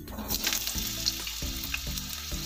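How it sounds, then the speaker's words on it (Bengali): Potatoes frying in oil after a tempering of cumin, dried chilli and bay leaf: a steady, close sizzle broken by repeated metallic scrapes and taps of a spatula against the pan. "এবার আমি ভাজার জন্য আলুগুলো দিয়ে দিচ্ছি।"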